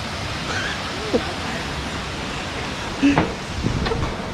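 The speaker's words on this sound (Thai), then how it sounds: "อันนี้คือน้ำตก" The lower Tad Yeuang waterfall in southern Laos gives a steady, even rushing roar with no pauses, and a few faint voices cut in briefly.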